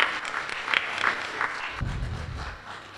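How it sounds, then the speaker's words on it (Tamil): A round of applause at a Tamil class event in Abu Dhabi, a short burst of clapping from a modest gathering that thins out within a few seconds. "அதுக்கோசரம் ஒரு பெரிய கைத்தட்டல் ப்ளீஸ்."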